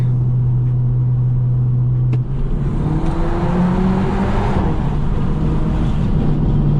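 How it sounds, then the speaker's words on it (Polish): A tuned Audi A3 e-tron plug-in hybrid's engine hums steadily, then its pitch climbs as it revs up and accelerates in second gear, with a deep exhaust rumble underneath, loud and close. "No i naprawdę ładny dźwięk silnika."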